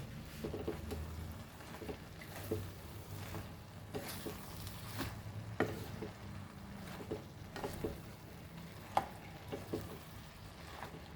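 Cauliflower leaf bhaji is stirred in a pan, with a soft steady sizzle and scattered scraping taps of a spoon against the pan, close and moderately quiet, with no talking.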